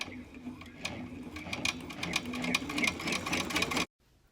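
An embroidery sewing machine runs a single stitch around a fabric face mask, a steady rapid mechanical whirring and clicking that stops abruptly near the end, leaving near silence.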